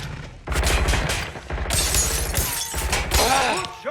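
Gunfire and shattering glass in Watch Dogs Legion, loud bursts of shots mixed with crashing, tinkling glass breakage in quick succession, close and chaotic.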